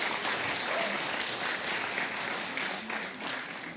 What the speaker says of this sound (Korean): 예, 박수 한번 보내주시죠.